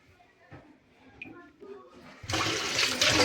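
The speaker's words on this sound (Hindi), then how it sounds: "अब मैं चावल धो रही हूँ।" Rice is washed in water in a home kitchen. Quiet handling and faint voices lead into a sudden, loud rush of splashing, sloshing water that continues to the end.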